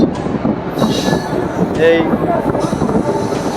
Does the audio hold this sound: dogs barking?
no